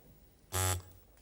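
A single loud electronic game show buzzer on Fifteen to One blares for about a quarter second, harsh and steady, then cuts off into quiet room tone.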